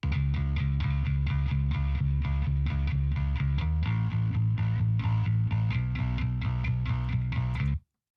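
A gritty, distorted electric bass plays a steady repeating riff alongside a cleaner low bass, loud and continuous, then cuts off abruptly.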